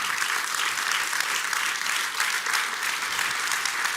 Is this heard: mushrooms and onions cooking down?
no